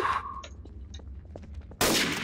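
Game gunfire in Garry's Mod Trouble in Terrorist Town: a burst of sharp shots cracks in at the end after scattered softer clicks and thumps.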